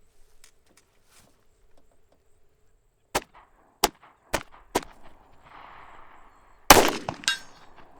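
Pistol fired at a 12-inch target 100 yards away at an outdoor range: four sharp, evenly spaced reports ring out with a brief settling noise after them, then a louder, closer crack with a ringing tail.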